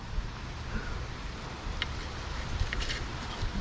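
Wind gusts outdoors beside a small ditch where someone is fishing, giving a steady, fairly faint rushing noise with a few small knocks and rustles and no speech.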